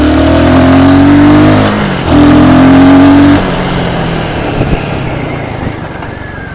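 A 2024 Royal Enfield Guerrilla 450 motorcycle revs hard through its gears. Its loud, close engine note climbs, drops at each shift, climbs again, then settles into a rougher, quieter run.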